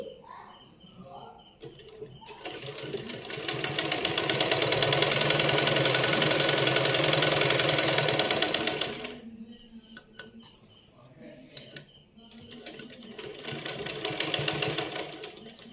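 A sewing machine stitches a neck and sleeve strip on a garment, making a fast, steady mechanical whir in two long bursts separated by quieter pauses with light clicks and handling.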